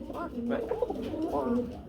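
Short-faced pigeons offered for sale coo in a couple of rounded, throaty bursts close by, with people talking at the same time.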